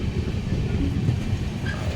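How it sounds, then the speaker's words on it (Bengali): A train runs steadily through Bihar, heard from on board as a continuous low rumble and rattle of the carriages. "এই যে ট্রেন"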